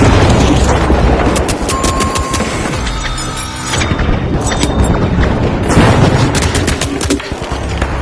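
A loud flashbang blast in the shooter game The Finals, amid a dense ongoing clatter of gunfire and impacts, with a steady roar throughout and a renewed burst of bangs near the end.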